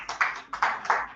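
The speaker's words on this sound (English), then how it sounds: "A round of applause for the place" Audience clapping at a Rotary club fifth anniversary fellowship, a handful of distinct, fairly close claps in a loose rhythm over about a second.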